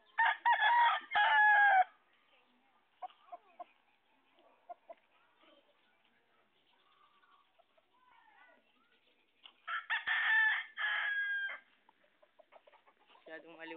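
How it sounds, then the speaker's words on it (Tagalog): Roosters crow loudly in two long bursts at a farm, one at the start and another near the end, with scattered clucks and faint chicken calls between them. "Mga manok po dito."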